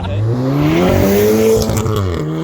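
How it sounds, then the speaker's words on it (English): VW Golf R MK7 coming alive, its engine revving hard with rising and falling pitch sweeps and turbo whooshes, loud and close in a short burst. "watch when it comes alive and the turbo noises"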